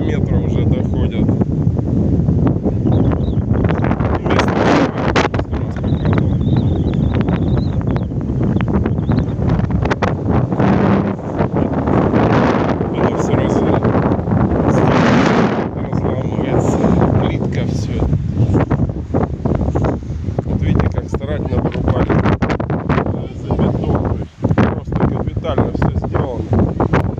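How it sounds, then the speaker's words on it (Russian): A storm on the Amur River during flooding near Komsomolsk in September 2019, with strong wind roaring and buffeting the microphone over choppy, metre-high waves in a loud, continuous rush. "Вот сегодня вообще разошелся шторм."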